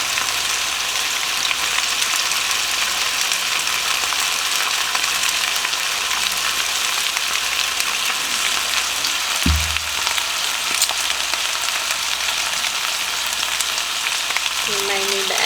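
Potatoes and onions frying in a pan of oil for Southern fried potatoes, a steady close sizzle throughout with a brief low thump of stirring partway in.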